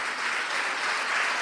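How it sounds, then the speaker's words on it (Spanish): Church congregation applauding during a Spanish-language sermon, a steady dense wash of clapping that holds evenly throughout at close range with no break. "Dale un aplauso al Señor"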